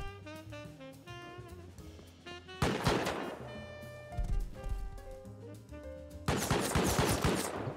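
Base turrets firing in a survival video game around a farm base, repeated loud bursts of rapid automatic shots over tonal background music, coming in three surges.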